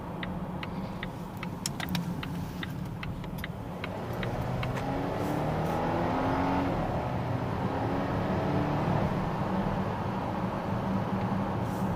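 A 2017 Volvo XC90 SUV is driven on winding roads, with a steady engine and road hum from inside the cabin and a brief run of ticking clicks early on, then a fuller drone as it picks up speed.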